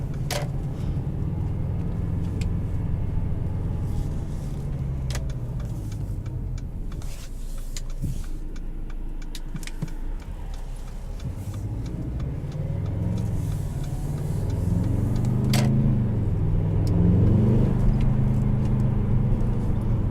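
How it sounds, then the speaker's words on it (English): Four-cylinder engine of a 2018 Mercedes-Benz CLA250 heard from inside the cabin, a low droning hum that rises in pitch as the car accelerates, with road noise and a few faint clicks, no talking. "There's some decent power in here, especially for a little 4-cylinder."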